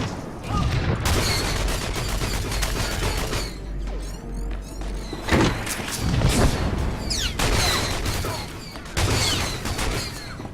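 Full-auto blaster fire from Star Wars: The Old Republic, a Republic Trooper's rapid bursts mixed with explosions and clanking game effects, loud and dense for about ten seconds with no clear gaps.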